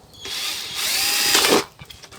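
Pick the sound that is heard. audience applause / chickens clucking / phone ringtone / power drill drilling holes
power drill drilling holes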